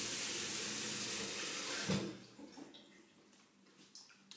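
Filtered water runs from a kitchen tap, a steady broadband rush for about two seconds, then stops, leaving faint clinks and room noise.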